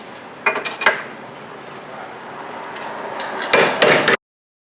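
Metal hammer taps knocking out a rear brake part on a 2009-2014 Hyundai Sonata: a pair of sharp clanks, a pause with quiet shop noise, then a few more close, ringing strikes.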